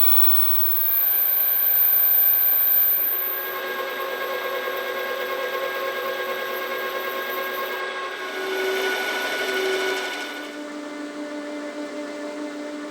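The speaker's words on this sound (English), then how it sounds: "next we'll cut a groove in our pulley" A lathe with a ground form tool cuts a groove into a small metal pulley made from offcuts, a steady whining hum with shifting tonal overtones that rises and falls in intensity across the cut, with no voices.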